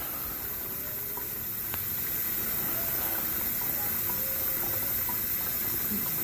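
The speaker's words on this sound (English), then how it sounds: "Getting nice and full of hot water." Hot water rushes steadily from a tap into the tank of a Hoover Spin Scrub 50 FH50150 carpet cleaner, a continuous close hiss without pauses.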